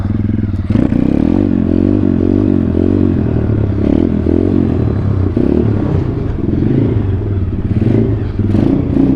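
A pit bike's small engine runs close by as it rolls into a garage and back out, a steady low drone with brief revs, clattering and scraping throughout, and no one talking.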